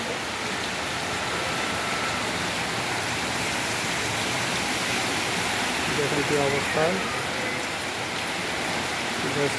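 Heavy rain pours in Jaipur, Rajasthan, a dense, steady hiss of water on surfaces filling the whole stretch, with a voice speaking briefly over it.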